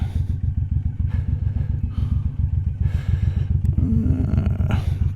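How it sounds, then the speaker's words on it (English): A Suzuki M109R motorcycle engine drones steadily while riding, a loud, low throbbing pulse with constant rumble and wind buffeting, briefly rising near the end. "Y'all will probably be able to hear the motorcycle"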